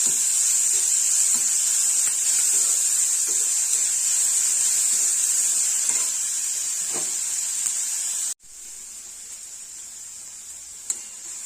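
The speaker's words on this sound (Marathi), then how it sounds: "साधारण 1 मिनिट जर आपल्याला हे परतून घ्यायचंय" Capsicum and onion sautéing in a pan for corn schezwan fried rice, a steady, bright sizzling hiss running throughout, briefly cut off and then resuming more quietly with faint stirring clicks.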